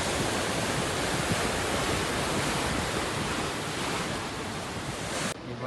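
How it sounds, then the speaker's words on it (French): Strong sea waves crash and churn along the shore at Rabat, Morocco, a dense, loud, continuous roar of surf mixed with wind that holds steady before dropping slightly near the end. "Les vagues sont très fortes."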